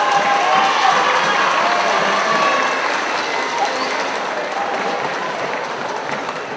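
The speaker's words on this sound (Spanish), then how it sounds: "Así es, un fuerte aplauso." Loud, sustained applause and some cheering from a crowd at a carnival pageant crowning finalists, a continuous wash of clapping that slowly eases off.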